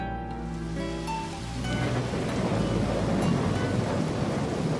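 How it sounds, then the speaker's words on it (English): In the video game Hoshi Ori Yume Mirai, a deep rolling rumble of thunder fades into a sudden, steady downpour of rain, loud and close, with soft music fading out as the storm begins. "the rumble of thunder drowned out our teacher's reply, and it immediately began raining"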